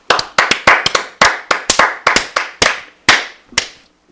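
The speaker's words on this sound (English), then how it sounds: "Let's give it a round of applause." Sparse, uneven handclaps at the start of a sports talk show, a dozen or so sharp, close claps with short gaps, slowing and thinning out toward the end rather than forming a full crowd ovation.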